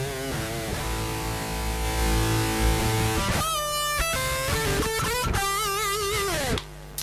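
Electric guitar played through a Boss GT-10 multi-effects unit with combined amp models, sustained distorted chords and single notes ringing loud and close, with no talk.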